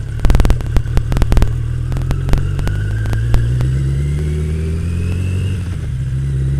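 Harley-Davidson Drift HD Maxim 650 motorcycle rumbling steadily along a torn-up road, its engine droning throughout while a quick burst of sharp clanks and thumps rings out early as the tires cross metal road plates, followed by a few scattered knocks.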